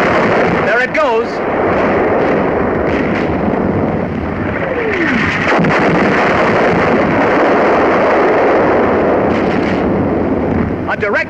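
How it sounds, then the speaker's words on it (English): Heavy artillery shelling of an enemy 88mm gun position in World War II North Africa, a loud continuous roar of blasts and booms with a narrator's voice running over it throughout. "A direct hit on an enemy 88mm gun position."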